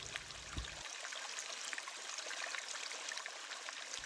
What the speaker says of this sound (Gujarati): પહાડના પથ્થરોમાંથી આવતું આ અને ખડખડ વહેતું આ પાણી એના મધુર અવાજથી જ આપણને આકર્ષી લે છે